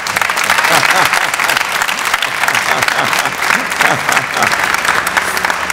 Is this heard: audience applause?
yes